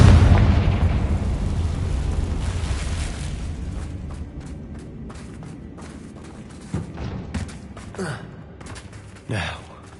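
A fiery Confringo spell blast in the Hogwarts Legacy video game, a loud booming explosion at the start whose rumble decays over several seconds, followed by brief breathy vocal gasps.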